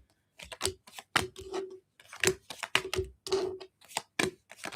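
Tarot cards being shuffled by hand, a series of quick crisp riffling and tapping bursts separated by short pauses, close and fairly quiet with no talking.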